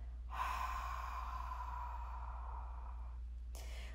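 A forceful exhale pushed through the mouth during a core lift on an exercise ball, a long breathy rush of air lasting about three seconds, close and soft, with no talking.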